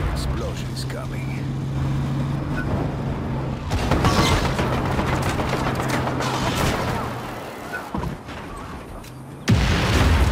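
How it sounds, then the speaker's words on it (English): Explosions in the video game Just Cause 3 burst out as heavy booms over continuous game noise, one near four seconds and a sharper, louder blast near the end. "Explosion is coming."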